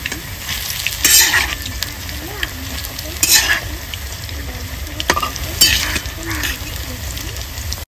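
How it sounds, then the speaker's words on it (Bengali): Cabbage pakoras sizzling steadily in hot oil in a kadai, broken by several sharp scrapes and clinks as they are turned, while a voice speaks softly underneath. "পকোড়াগুলো উল্টে নেব।"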